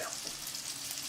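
Butter and oil sizzle in a hot pan, a steady hissing crackle heard close and fairly soft over a brief moment.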